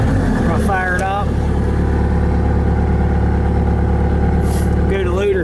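A 2012 Bobcat S185 rubber-tracked skid steer loader engine runs at a steady, loud, close idle throughout, its low rumble continuous under brief bits of someone talking.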